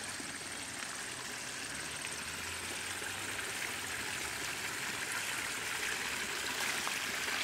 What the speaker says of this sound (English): And this is our little waterfall.